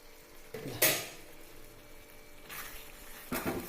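A metal lid on a pot of jackfruit seed roast clanks sharply as it is lifted, followed by a few lighter clinks and scrapes of cookware nearby.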